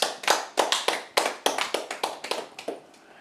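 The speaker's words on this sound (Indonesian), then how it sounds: "Tepuk tangan buat Tuhan Yesus" A church congregation claps hands in praise, about a dozen distinct, fairly close claps in an uneven rhythm that thins out and stops near the end, with no talking.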